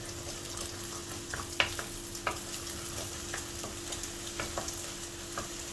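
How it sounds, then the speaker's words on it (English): Eggs sizzle steadily in a pan on high heat for egg fried rice. A spatula scrapes and taps at irregular moments as the eggs are stirred, close by, with a constant frying hiss underneath and no speech. "Okay, eggs in. Alright, just stir it up."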